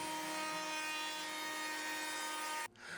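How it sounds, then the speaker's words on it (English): Table saw or router table cutting wooden loose tenon stock, a close, steady high-pitched whining cut that stops abruptly near the end, leaving a quieter rumbling tail. "run the whole batch through the table saw, and then on the router table"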